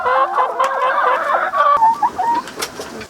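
Chickens cluck up close in a short burst of overlapping, choppy calls with a few sharper squawks, all clearly audible with no talking.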